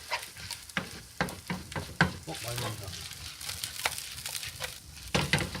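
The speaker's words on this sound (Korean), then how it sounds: "고기가 잘 풀리도록 저어주면서 볶아줍니다" Meat stir-fries in a pan on raised heat, a soft sizzle under repeated sharp scraping strokes of a spatula stirring it apart, fairly quiet and close.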